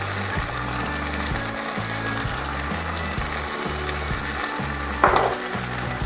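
A lentil soup base seasoned with salt and pepper fries in a pan with a constant close sizzle, under steady background music, with a brief louder scrape near the end.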